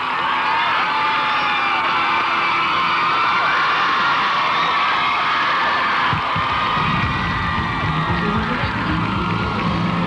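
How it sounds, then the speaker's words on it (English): Roadside crowd of Wellesley college spectators at the Boston Marathon screaming and cheering for passing runners, a loud, shrill, continuous wall of whoops and high-pitched yells, with a rumble of passing noise late on. "There is no better way to punctuate the excitement of this race than by listening to that Wellesley crowd"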